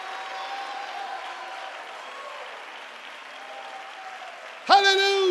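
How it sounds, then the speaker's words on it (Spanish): Church congregation applauding and calling out praise, a steady wash of clapping with scattered voices shouting throughout, ending in a sudden louder burst of raised voices. "aplauda sus manos, abra su boca y dé un clamor de alabanza al Dios de los cielos"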